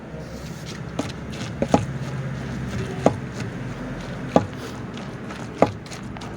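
Breadfruit mixture with flour and salt being pounded for pakoda, heard as about five sharp, evenly spaced thuds over a low background murmur.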